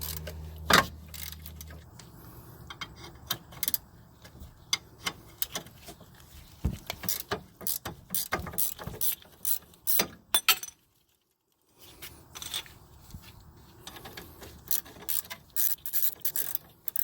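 Ratchet working a rear brake bolt on a Mazda 3, a long run of quick clicking and metallic clacks with a brief clank near the start and a short silent gap midway, close and fairly quiet.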